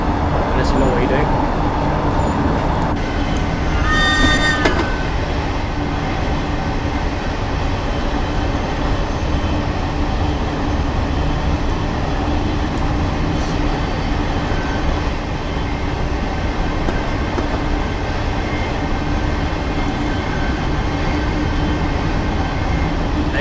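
Train Simulator 2019 S8 Underground Stock train running on a snowy route: a steady, loud rumble of rolling wheels and motor hum persists throughout, with a brief high electronic whine near the start, and a voice talking over it.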